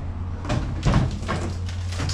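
A spare left-hand door from a 1966 VW Beetle long left in a driveway is handled and set in place, giving several dull metal clunks and knocks in quick succession over a low hum.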